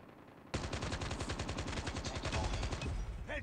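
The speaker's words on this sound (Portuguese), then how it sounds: "O aim down the sight, ele dispara logo automaticamente." Rapid automatic gunfire in Call of Duty Mobile, a fast continuous burst of shots starting abruptly and running for about three seconds, close and loud, with no talking.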